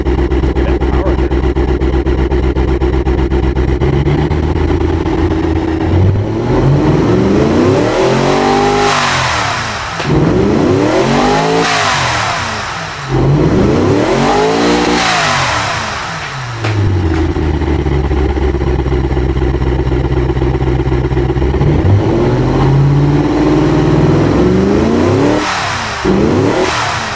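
Loud, throaty, aggressive engine from a 500hp budget-build car in the Automation game, idling then repeatedly revving up and falling back in long sweeping arcs, with no talk.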